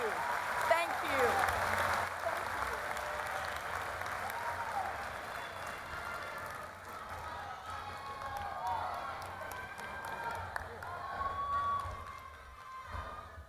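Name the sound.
applause for Senator Elizabeth Warren at commencement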